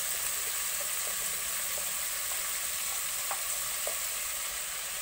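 Onion and potato sizzle in a pan for a Filipino-style pork curry, a steady, even frying hiss at moderate level with a few faint clicks and no voices.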